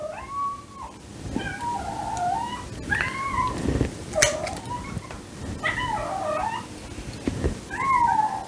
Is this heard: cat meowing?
yes